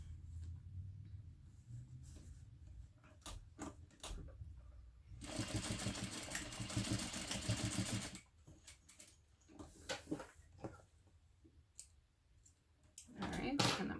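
A sewing machine runs in a sustained whirring burst while basting and back stitching a seam, framed by scattered clicks and handling taps, with quiet talk before and after.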